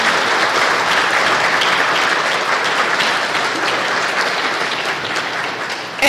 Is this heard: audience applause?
yes